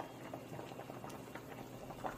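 Korean braised chicken stew with onion and green onion simmers in a pot, giving a steady, close bubbling and gentle popping throughout with no talk.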